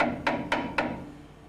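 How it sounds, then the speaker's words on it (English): A hammer gently taps a reed-making wheel three times in an even, quick rhythm, each a soft, close, muted knock that dies away, with no talking. "Now you can now go gently with a hammer, a soft hammer or sort of a rubber hammer or whichever hammer, and just gently tap this down."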